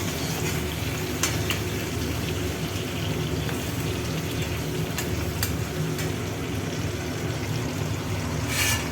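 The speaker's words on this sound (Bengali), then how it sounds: "এখানে একসাথেই বেগুন আর পটল ভাজাটা করে নেব।" Eggplant and pointed gourd fry together in hot oil. The sizzle is a steady, dense hiss throughout, broken now and then by sharp crackling pops.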